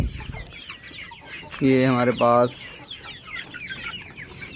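A hen with pox sores on her comb and the sides of her beak gives a loud, close burst of clucks in two quick runs, while someone talks before and after.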